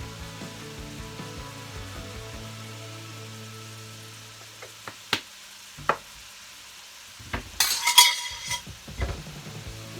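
Cabbage and salt fish cooking in a pot give a low sizzle with a spoon scraping and knocking as it is stirred, a few sharp clinks and a busier stir near the end.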